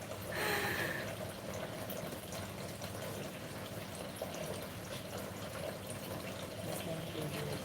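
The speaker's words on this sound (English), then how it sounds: "There's a water fountain in the salon." A water fountain in a hair salon runs continuously, a faint, steady broadband splashing wash that holds evenly throughout, with a brief higher tone near the start.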